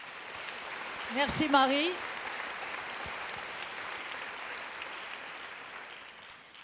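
An audience applauds at a scientific lecture event, a steady, even wash of clapping throughout, with a brief spoken thank-you from a nearby voice early on.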